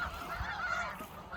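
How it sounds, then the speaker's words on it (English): A large flock of snow geese honks continuously in November at Iona, a dense overlapping chorus of calls from many birds nearby and farther off, steady throughout. "we've got snow geese here"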